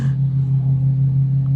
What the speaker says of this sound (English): My husband is mowing the lawn.